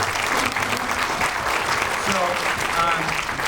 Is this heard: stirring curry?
no